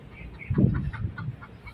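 Native chicken hen brooding on her eggs, giving a short burst of low, agitated clucks, close and fairly quiet.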